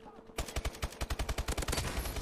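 Rapid automatic gunfire from the video game Call of Duty: Advanced Warfare on PS3: about fifteen loud, close shots in a quick, steady burst that starts after a short quiet moment and runs to the end.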